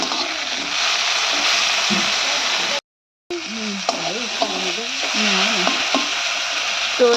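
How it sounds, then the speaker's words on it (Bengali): Onion, chilli, bay leaf and tomato fry in a pan with a dense, even sizzle, briefly cut to silence partway, then continuing under a faint low tonal hum. "মশলাটা ভাজা হচ্ছে"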